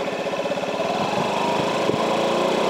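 A Honda Ruckus scooter engine with newly replaced variator rollers revs steadily and loudly up to about 3,800 RPM, a continuous buzzing drone that climbs slightly, with no speech.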